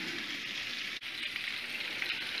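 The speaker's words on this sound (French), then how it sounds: "on va faire rissoler des petits oignons dans de l'huile et du beurre" Steady, close sizzling of onions frying in oil and butter in a saucepan for paella, a constant crackling hiss with no talking.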